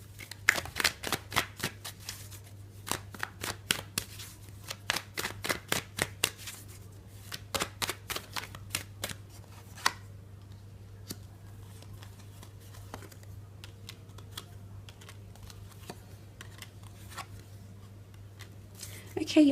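Tarot cards are shuffled and drawn by hand in a quiet room: a run of quick, crisp riffling flutters in bursts over the first half, then sparser soft card snaps and slides, all close and fairly faint.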